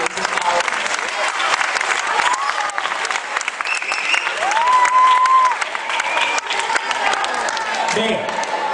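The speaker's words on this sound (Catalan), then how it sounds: "un altre fort aplaudiment, sisplau." Sustained applause from a concert audience greeting a TV3 guest, steady and fairly loud, with a voice speaking over the clapping and a brief whistle-like tone partway through.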